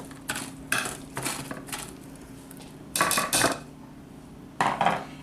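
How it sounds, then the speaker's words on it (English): A potato masher squashes blueberries and cherries for home-brewed fruit wine, giving several short bursts of wet squishing and clattering against the container, separated by brief pauses. "So I usually just take a potato masher here and just mash them all up."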